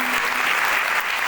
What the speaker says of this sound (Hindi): और इस बात के लिए जोरदार तालियां बजाएं।